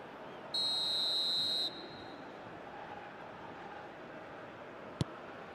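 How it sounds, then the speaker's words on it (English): A referee's half-time whistle in the eFootball video game sounds as one clear, steady high-pitched blast of about a second. It rises over a low crowd murmur, and a sharp click follows a few seconds later. "And the half-time whistle goes."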